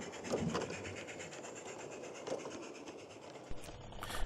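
A light railway mixed train working steadily uphill on a bank, a continuous rumbling chuff and rattle heard from a distance, with occasional clanks.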